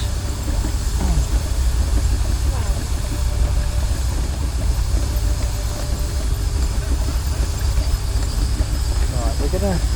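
A miniature McCormick engine at a spring fair runs with a steady idling chug throughout, loud and close, with people talking nearby.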